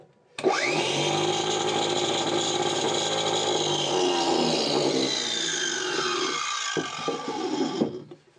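A cutting disc grinds a Milwaukee 5 m tape measure in a steady, loud, harsh whine lasting most of the clip, starting abruptly and stopping near the end with a few short scraping bursts.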